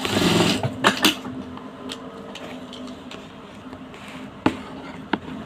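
A sewing machine fitted with a gathering presser foot makes a short mechanical whirring run, followed by a few sharp clicks and knocks at moderate volume.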